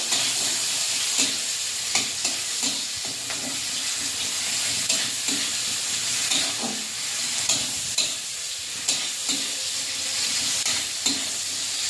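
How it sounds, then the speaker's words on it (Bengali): Chopped onion frying in hot oil in a wok with whole spices gives a steady, close, crackling sizzle, broken by regular scraping stirs of the spatula, with no talking. "পেঁয়াজটা ভাজা ভাজা করে নেব।"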